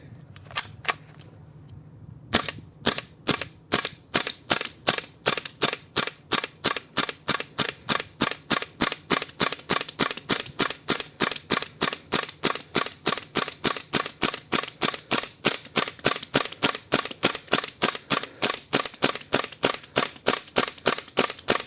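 Airsoft gas blowback pistol firing propane from a magazine preheated to nearly 30 °C, a long rapid string of sharp, evenly spaced cracking shots close to the mic after a short quiet lead-in, no talk.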